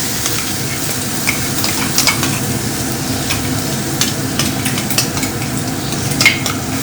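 Steady stirring and scraping in a pan over a continuous sizzle of frying food, with occasional light clinks of a utensil against metal.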